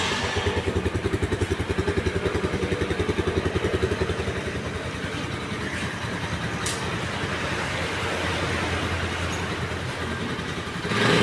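A Rusi Classic 250i motorcycle engine runs close by with a steady rapid thumping idle that eases slightly partway through, continuous and fairly loud, with no talking.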